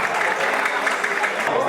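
A dining room crowd at a veterans' football league closing dinner claps together, a dense, even burst of applause that stays loud for its short length.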